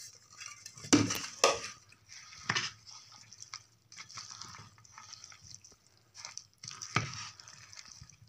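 Spoon scraping and clinking against a pot while mango pieces coated with turmeric and salt are slowly stirred for sweet mango pickle made without oil, a few soft knocks and wet shuffles with quiet gaps.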